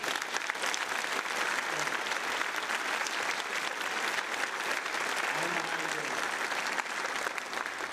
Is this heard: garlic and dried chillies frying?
no